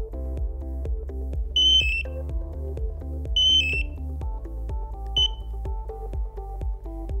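A synthesized melody plays steadily while a bright electronic alert chirp sounds three times, layered on top of the music.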